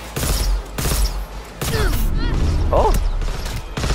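Loud, rapid bursts of smart gun fire in Cyberpunk 2077, several sharp volleys in quick succession mixed with mechanical whirs and creaks, with a brief exclamation from a player.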